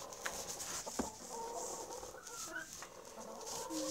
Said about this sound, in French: T'as 2 poules qui pondent.